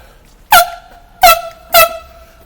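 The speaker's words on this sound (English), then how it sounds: "Let's hear the air horn." An air horn blasts three times in quick succession, each honk short, loud and brassy with a sharp onset, close by with quiet gaps between.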